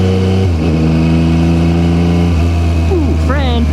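A loud Ducati motorcycle passes through a quiet village, its engine note holding steady and then dropping as it goes by, while a voice talks over the roar.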